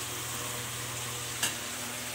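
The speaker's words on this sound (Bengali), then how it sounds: "পেঁয়াজ লঙ্কাটা ভেজে নেওয়া হয়েছে, নিয়ে তারপরে বেগুনগুলো দিয়ে ভালো করে ভেজে নেওয়া হচ্ছে" Eggplant pieces fry in a pan with onion and green chili, giving a steady, even sizzle with one brief click near the end.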